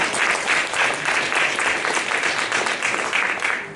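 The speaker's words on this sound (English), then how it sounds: "You can clap for that." An audience claps steadily and densely for nearly four seconds, a full sustained round of applause at a motivational talk on resilience, fairly loud and even throughout.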